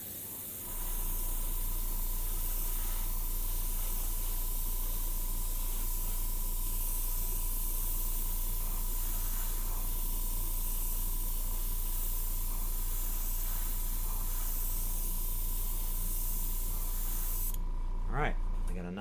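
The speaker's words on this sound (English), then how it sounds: "a little flash coat there, light coat to let it kind of settle itself in there a little bit" Aerosol or airbrush paint hisses steadily as a light flash coat goes onto a scale model, a continuous close spray holding level for most of the stretch before a short break near the end.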